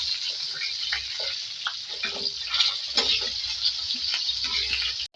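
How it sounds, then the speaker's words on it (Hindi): Chicken pieces sizzling and frying in oil in a pan for a chicken aloo fry masala, a steady crackling hiss with occasional stirring and scraping sounds, close and continuous without talk. "इसको फ्राई कर रहे हैं"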